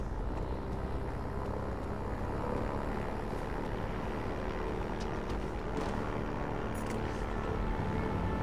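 The propeller aircraft engine in Far Cry 4 drones as a steady, dense hum at moderate loudness, running unbroken with no talk over it.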